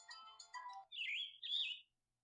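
Synthetic birdsong alarm from a Goloza digital alarm clock: a few quick chirps, then two longer warbling trills, close and clean before falling silent.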